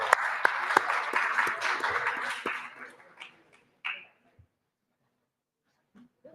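Conference audience at a European Jewish Association gathering applauding a speaker, a dense burst of clapping for about three seconds that thins into scattered claps and fades to near silence with a few faint noises.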